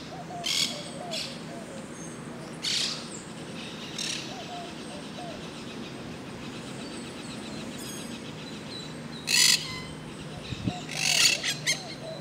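Wild birds calling from a tree in Old San Juan, Puerto Rico, with scattered short chirps and squawks over steady outdoor background noise, intermittent and moderately distant.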